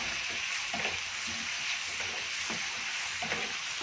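Beef salpicao with oyster sauce sizzling in a hot pan, a steady frying hiss with soft rhythmic scraping as the mixture is stirred.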